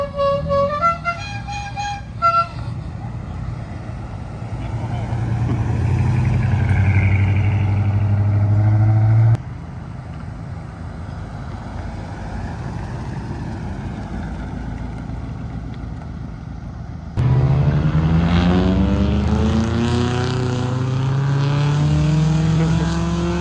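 A Toyota Corolla drag racing at a rock and roll car show, its engine roaring loudly through a long run, with a second loud burst of revving engine noise later, nearby and dominating.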